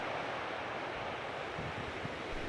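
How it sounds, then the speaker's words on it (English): River water flowing near Carsland Weir, a steady broadband rush of moving water heard continuously and fairly close, with some low wind rumble mixed in and no voices. "But the river, it still keeps on flowing."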